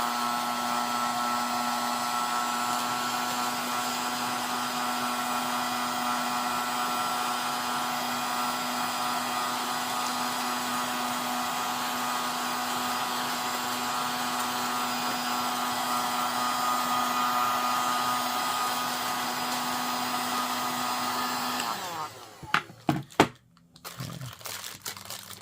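A heat tool held over a wax candle melts a sublimation print into its surface, producing a steady, even blowing whir for about twenty-two seconds before it cuts off and a few handling knocks follow.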